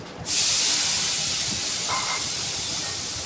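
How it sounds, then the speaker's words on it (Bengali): Black cumin seeds and spice paste hit hot oil with a sudden loud sizzle that settles into a steady, close hiss, with no talking over it. "কালো জিরে ফোড়ন দিলাম, দিয়ে এই মশলাটা তেলের মধ্যে ছেড়ে দিচ্ছি"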